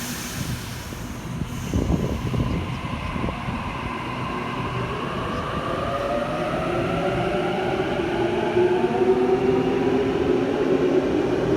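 A Sydney Waratah electric train departs platform 1, its motor whine climbing steadily in pitch as it pulls away, loud and continuous with a rumble underneath.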